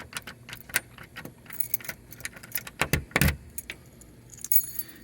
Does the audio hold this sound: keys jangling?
yes